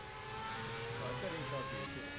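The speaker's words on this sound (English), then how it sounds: "Sounds of the cars are fantastic." Race car engines in the Project Cars racing video game drone and rev steadily, the tone shifting up and down through gears while a voice talks over the game sound.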